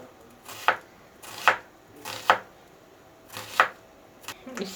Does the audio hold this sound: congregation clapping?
no